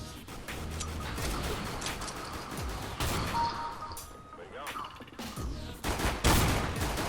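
Gunfire in Counter-Strike: Global Offensive, including shotgun blasts, comes as rapid repeated bursts of shots in a steady volley, with people talking over the action.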